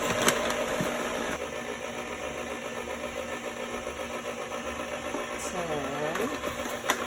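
Electric stand mixer churning bagel dough in a steady, continuous motor whir with a buzzing hum, heard close throughout with a brief whine near the end.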